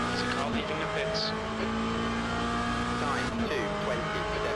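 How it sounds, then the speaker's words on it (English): A race car in Le Mans Ultimate drones steadily with a sustained engine note, its pitch shifting briefly around the midpoint, and voices murmur faintly beneath. "There's a car leaving the pits."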